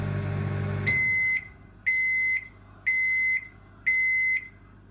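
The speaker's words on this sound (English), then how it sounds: "And beeps. You can actually turn the beeps off if they annoy you." End-of-cooking beeps from a Samsung MC28H5135CK_BK microwave with smart oven: four evenly spaced, clear electronic beeps close by. Each beep holds for about half a second, following a brief hum at the start.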